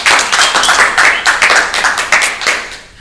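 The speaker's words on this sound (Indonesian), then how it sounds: "Tepuk tangan buat Mas Eko Ompong" Studio audience claps for a guest on an Indonesian theater talk show, a loud, close burst of rhythmic, fairly even hand clapping that tapers off after about three seconds.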